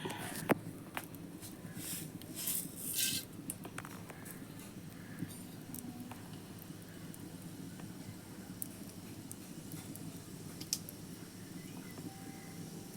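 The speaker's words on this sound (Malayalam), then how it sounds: "നമ്മുടെ കടുക് പൊട്ടിയിട്ടുണ്ട്" Mustard seeds crackle and pop in hot coconut oil in a pan, a steady low sizzle with scattered sharp spits and a few louder bursts near the start, close and fairly quiet.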